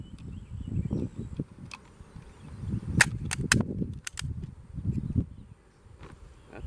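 Shots from a Lee-Enfield SMLE Mk3 rifle fired at 50 yards, a few sharp reports spaced apart over steady outdoor insect buzz and background noise, heard from a moderate distance.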